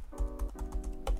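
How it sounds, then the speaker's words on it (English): Terminal commands are typed on a computer keyboard in a quick, quiet burst of about half a dozen close key clicks, some crisp and some softer, with no voices. "So we will just type sudo bash airgeddon.sh."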